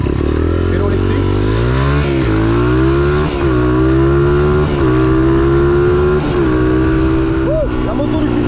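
A Yamaha X-Max scooter accelerates hard past on a city street, its engine note climbing through several rising gear pulls, loud and close amid continuous traffic rumble.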